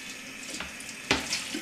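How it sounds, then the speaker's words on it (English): Running water rinses a vinyl record held in a handled cleaning tray, a steady faucet-like flow with a brief splash near the end, heard alone. "now you can just rinse it"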